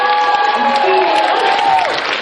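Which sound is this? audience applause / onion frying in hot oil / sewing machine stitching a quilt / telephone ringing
audience applause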